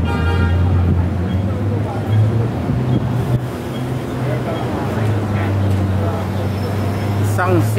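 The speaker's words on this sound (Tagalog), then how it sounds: "Isang city bus." A city bus passes on Granville Road late at night amid steady traffic, with a continuous low engine rumble and a few horn toots, while voices murmur nearby.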